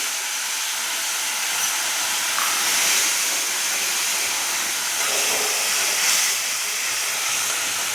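Cornflour mixed with sauce and water is poured into a hot pan over lowered gas, producing a steady broad hiss and sizzle that runs evenly throughout.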